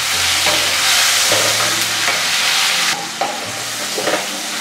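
Valor papdi beans and tomatoes sizzle loudly in a pan while being stirred, a dense steady hiss with several scraping strokes that ease briefly before picking up again, close by and with no one speaking.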